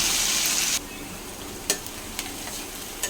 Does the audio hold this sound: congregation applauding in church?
no